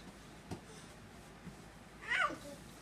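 A kitten meows once, a short, faint, high cry in a quiet indoor room near bath time, with a few soft bumps before it.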